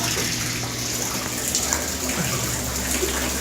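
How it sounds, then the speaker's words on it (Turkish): Water gushes hard from a newly drilled borehole well, a dense steady rushing spray with a low machine hum beneath it. "Suyumuz şelale gibi her tarafından su akıyor"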